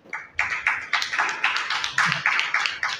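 Audience applause at a poetry gathering and award ceremony, a short run of crisp, fairly steady claps from a small group, close and even.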